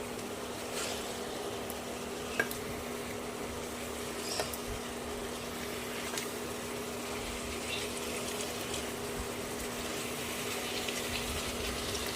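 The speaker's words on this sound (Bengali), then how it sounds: "এবারে দিয়ে দেবো পরিমাণ মতন জল" Water is poured into a pan of potatoes and pointed gourd cooked in masala with turmeric and Kashmiri chilli powder. A steady, continuous pouring gush of moderate loudness plays over a faint hum, with no talking.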